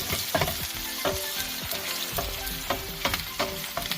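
Green chilies, ginger and garlic sizzle steadily in hot oil for a lemon pickle, with close stirring scrapes and clicks sounding at irregular intervals over the constant fry.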